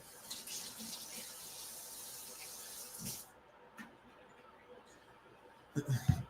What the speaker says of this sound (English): So I'm just going to give this fennel a quick rinse.